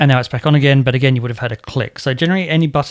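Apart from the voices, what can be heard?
No distinct noise like a dog, phone or traffic.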